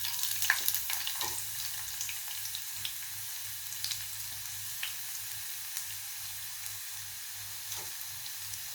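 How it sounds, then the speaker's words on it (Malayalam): Onions go into hot coconut oil with crackling mustard seeds for a Kerala-style green gram curry, giving a steady soft sizzle with light stirring clicks and faint pops over a low hum. "കടുക് പൊട്ടിക്കഴിയുമ്പോൾ ഉള്ളി ഇട്ട് കൊടുക്കുക."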